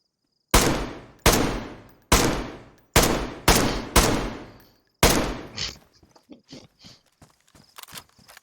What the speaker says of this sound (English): I hear the gun.